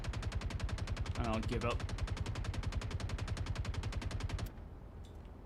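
Sustained automatic weapon fire in the video game Star Citizen, rapid evenly spaced shots lasting several seconds before stopping abruptly, with a voice talking briefly over the bursts.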